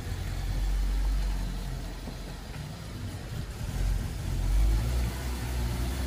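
An auction-bought car's engine runs at low, rumbling idle while it is maneuvered and put into gear, rising and falling gently in a continuous drone.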